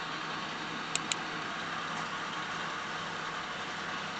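Car engine idling during a heater and AC blower fan diagnosis, a faint steady hum with two brief clicks near the start and no talk.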